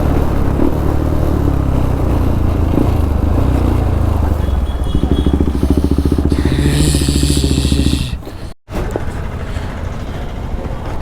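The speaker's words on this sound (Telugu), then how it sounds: "లిటరల్లీ పాప్స్ అండ్ బ్యాంగ్స్ అయితే ఇట్లా వినిపిస్తున్నాయి" A motorcycle on an empty early-morning ride from Hyderabad to Siddipet runs loud and near, its exhaust crackling and popping with echoing bangs over the engine, then a sharp cut and a quieter idle.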